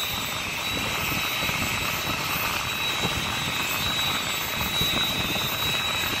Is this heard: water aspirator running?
no